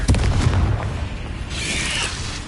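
The Confringo blasting spell in Hogwarts Legacy goes off as a heavy, booming explosion with a low rumble that swells and then fades into a sustained roar.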